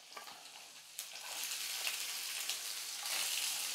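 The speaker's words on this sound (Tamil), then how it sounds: "தேங்காய் ஒரு 2 நிமிஷத்துக்கு நல்லா எண்ணெயில் நல்லா வதங்கட்டும்" Grated coconut sautés in oil with red and green chillies and cumin for a dosa kara chutney, giving a steady close sizzle that swells slightly, broken by a few light stirring clicks, with no one speaking.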